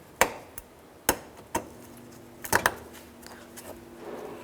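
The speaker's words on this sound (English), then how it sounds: "We're just going to start to reinstall our retaining clips here." Plastic retaining clips pressed back into a 2003–2011 Honda Element fender liner, heard as a handful of sharp, separate snaps and knocks close by, irregularly spaced, with no talking over them.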